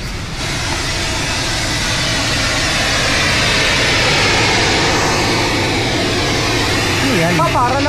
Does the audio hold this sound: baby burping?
no